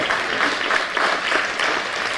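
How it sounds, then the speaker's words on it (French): Audience applause fills a round-table discussion hall, a dense steady patter of many hands clapping at moderate volume throughout, with no voices over it. "Vous pouvez l'applaudir, vous avez le droit."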